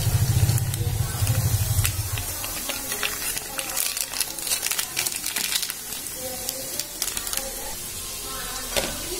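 Masala is stirred into vegetables sautéing in a pan for veg noodles, giving a loud sizzle and hiss with crinkly scraping of a spoon, close up, while a person talks over it.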